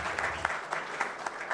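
Faint, brief clapping from a meetup audience, a soft scattered patter heard at a distance.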